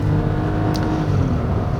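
A small Kia Morning engine with a 4-speed automatic pulls steadily with a low droning hum, building gently as it accelerates, heard close from inside with no talking.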